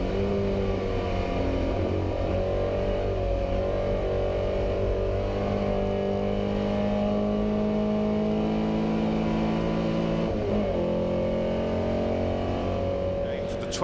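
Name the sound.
historic race cars including Jaguar racing at Goodwood Revival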